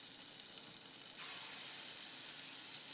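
A grain-free tortilla is laid into butter on a griddle, sparking a bright, steady hiss that jumps louder about a second in and holds, close and alone.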